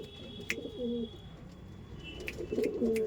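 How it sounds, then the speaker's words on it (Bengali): Pigeons coo in low, throaty repeated calls, several birds close by, with a few sharp flutters or clicks mixed in. "এই দেখুন সমস্ত পায়রা রেডি টু ব্রিড।"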